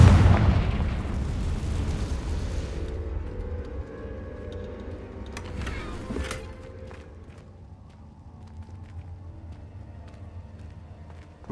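A Confringo spell blast in the video game Hogwarts Legacy opens as a loud, heavy boom that rolls and fades over several seconds, followed by scattered softer impacts and crackles.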